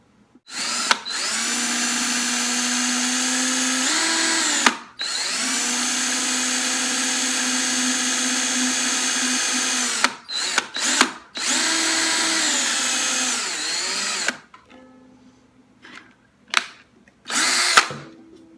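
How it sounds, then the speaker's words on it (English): A power drill whirs steadily through a wooden ukulele body in several long bursts, its pitch sagging under load, with short pauses and a few quick trigger blips near the end. "get my drill ready"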